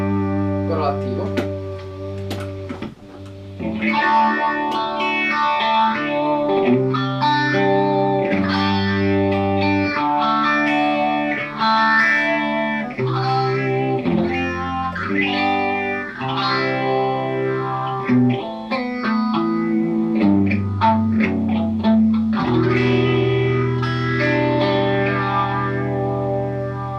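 An electric guitar with a semi-distorted tone runs through an engaged Foxx Foot Phaser Studio Model 7 pedal, playing a continuous sweeping, swirling run of notes and chords close and loud.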